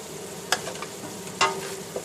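Seasonings are stirred into browned ground beef in a pan. A soft sizzle runs underneath, broken by two sharp, close scraping strokes, with no talking.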